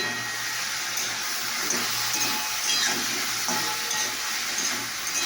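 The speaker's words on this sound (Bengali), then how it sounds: "অনেকটা ভেজে এসেছে দেখতে পাচ্ছি।" Vegetables fry in a pan and get stirred, giving a steady, loud hiss and sizzle that runs unbroken throughout, with faint scrapes of the spatula under it and no talking.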